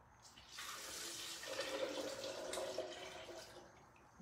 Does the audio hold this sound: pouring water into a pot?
yes